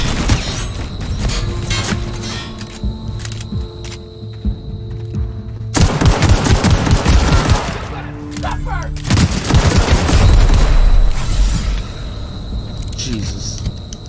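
Machine gun fire in The Outer Worlds video game, loud rapid bursts and booming gunshots arriving in clusters over game music and rumbling, with a voice speaking at times between volleys.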